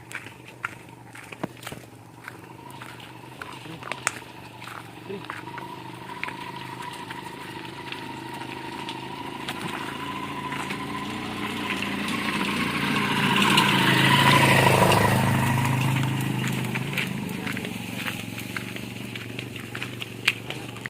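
A motorcycle engine approaches from afar, swells to a peak as it passes close by, then fades away, over scattered ambient clicks and background noise.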